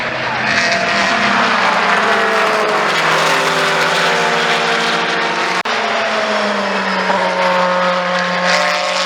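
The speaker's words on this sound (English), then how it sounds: "those hypercars flying past everything, and I'll cut some footage now to try and show just how different the cars are around the track" Race cars and hypercars roar past trackside at the Le Mans 24 Hours in 2022, loud continuous engine noise with pitch sweeping down as each car goes by, one pass blending into the next.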